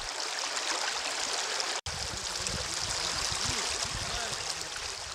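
Seomjin River streaming past a riverside village in Imsil, North Jeolla, a steady broadband rush of flowing water that holds at an even level throughout, broken only by a brief dropout near the start.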